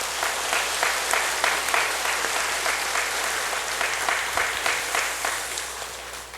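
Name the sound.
congregation applauding in church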